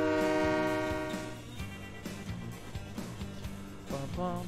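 Electric train in the video game Train Mechanic Simulator 2017: a sustained horn tone at the start gives way to a low rolling rumble with periodic clanks as it moves along the track.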